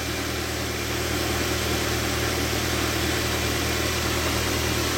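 A car engine idles steadily with its battery terminals disconnected, kept running by the alternator; a constant, loud, close mechanical drone with no variation.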